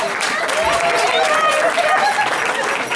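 Wedding guests applaud after the best man's speech, steady clapping blended with crowd chatter and voices throughout, loud and close.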